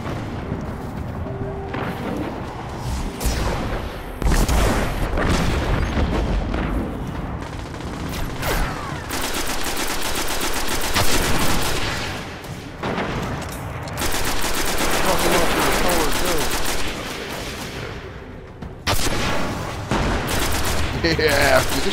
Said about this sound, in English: this rocket launcher is fucking sexy